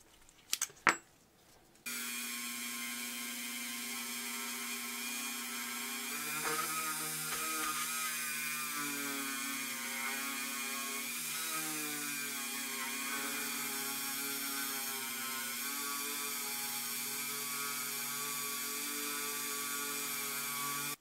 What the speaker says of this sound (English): This is the little side cutting bit I always refer to. It's kind of like a little mill.